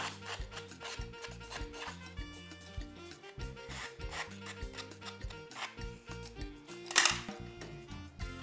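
Edges of craft paper are worn down by rubbing, a close, repeated dry scraping in short rhythmic strokes, with a faint steady hum underneath and no talk.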